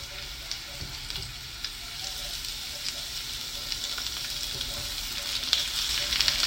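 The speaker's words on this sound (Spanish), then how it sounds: "Zucchini. Y lo ponemos a sofreír." Sliced zucchini sautés in a pan for a keto zucchini lasagna, giving a steady, close crackling sizzle that runs unbroken with no voices.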